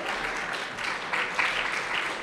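An award ceremony audience applauds, a dense wash of clapping hands that holds steady with a few sharper bursts throughout.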